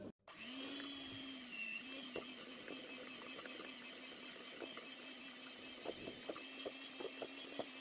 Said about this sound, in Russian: К сметане добавляем сахарную пудру и также все слегка взбиваем.